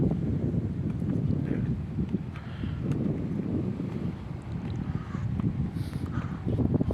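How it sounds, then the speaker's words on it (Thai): Strong wind by the Mekong river in Nakhon Phanom rumbles and buffets the microphone in a steady low roar for several seconds, gusting slightly louder near the end, with no clear voices. "ลมแรงนะครับ"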